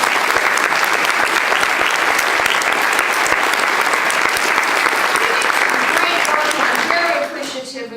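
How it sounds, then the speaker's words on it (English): Loud, dense applause from a large audience at a university general assembly rolls on steadily for several seconds, then thins and fades near the end as a few voices come through. "could we stand and everybody else clap for us?"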